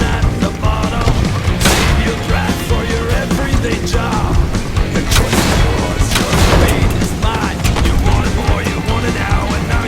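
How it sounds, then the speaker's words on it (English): Rapid booming blasts and crashing impacts from exploding crossbow bolts in the video game WET, dense and loud over a constant game soundtrack, with repeated sharp bursts throughout. "in this area, exploding crossbow bolts are way faster"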